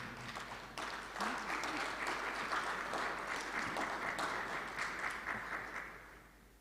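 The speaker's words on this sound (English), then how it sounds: "I think the JTA needs a round of applause" An audience at the JTA Roll of Honour Award ceremony gives a steady round of applause, many hands clapping evenly for several seconds before tapering off at the end.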